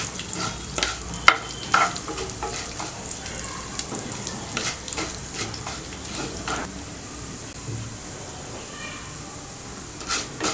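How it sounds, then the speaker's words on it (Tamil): Urad dal and cumin fry in a little oil in a pan for a mint ginger chutney, giving a soft steady sizzle with scattered sharp stirring clicks and scrapes, close up, with no talking. "இது வந்து நான் கொஞ்சம் தான் எண்ணெய் விட்டுருக்கேன். அதிலே வந்து கொஞ்சம் வறுத்து எடுத்துக்கலாம்"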